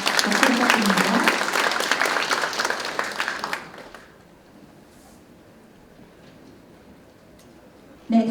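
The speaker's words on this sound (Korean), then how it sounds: "마지막으로 전남 손철석 지부장님 함께 해주셨습니다. 박수 부탁드립니다." Applause from attendees at a policy forum on fishing-boat safety rises for several seconds, then fades away, leaving a quiet room with a faint click and a short sound at the very end.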